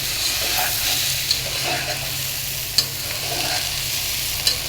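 Eggs fry with pulao rice in a hot pan, giving a constant, fairly loud sizzle broken by a few sharp scrapes and clicks of stirring.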